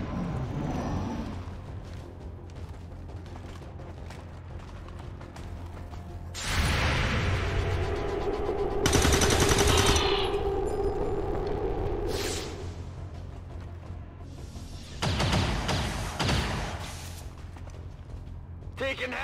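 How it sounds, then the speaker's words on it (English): Heavy gunfire rings out in a video game, in loud bursts and sustained volleys with whooshing blasts over a steady background. Voices are heard alongside the firing. "Taking heavy fire."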